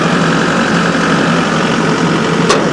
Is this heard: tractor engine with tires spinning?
yes